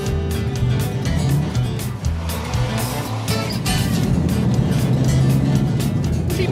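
A car drives fast along a road, its engine and tyre noise a steady, fairly close rumble with a brief dip midway, and no talk over it.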